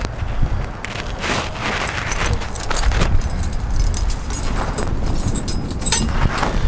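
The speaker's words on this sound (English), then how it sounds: "Let's return the keys." Keys for a 1969 Oldsmobile W-30 jangle and clink steadily for several seconds, close and loud, with a few rustles and taps mixed in; no talking.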